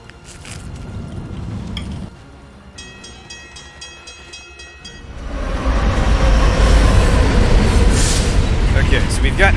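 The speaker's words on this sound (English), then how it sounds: "we've got actual trains going through here" Trains in the video game Alpha Protocol, a rumble that drops briefly and then swells into a loud, close rushing roar as a train passes, with a metallic ringing tone partway through.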